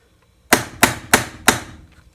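Four crisp hammer taps land in a quick, even sequence during assembly of a Vega Tubaphone tenor banjo, close and clear against near silence.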